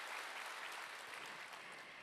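A crowd applauds steadily, a dense wash of clapping hands holding at an even level throughout with no voices on top.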